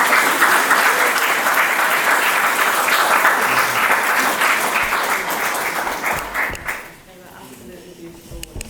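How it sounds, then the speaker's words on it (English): Wedding guests applaud in a sustained, dense burst of clapping that stays loud for about seven seconds, then fades quickly into a quieter room tone. "Can we give them a round of applause?"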